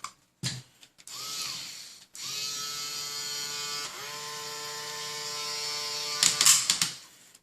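A power tool whirs in sustained bursts as it fastens a wheel nut on motorized support legs, a steady buzzing drone with short pauses between runs and a rattling finish.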